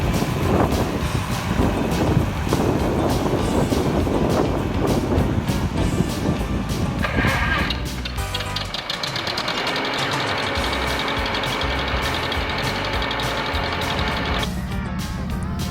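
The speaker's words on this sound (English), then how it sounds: "Jeremy's coming down the trail on a 1969 John Deere Model 4020. It's diesel." A freshly painted 1969 John Deere Model 4020 diesel tractor drives along a trail with a steady, loud engine drone. The tone shifts partway through, with some wind buffeting the microphone.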